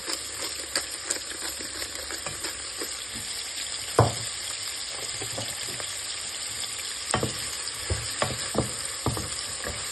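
Steady crackling sizzle of food frying in a pan for pancit guisado, close and continuous, with occasional sharper pops and clinks of a utensil.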